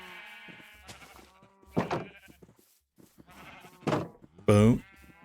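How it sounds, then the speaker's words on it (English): Sheep in the video game Minecraft bleat several times in close succession, the last cry loudest and nearest, with brief quiet gaps between calls and no talk over them. "let me grab the brown sheep"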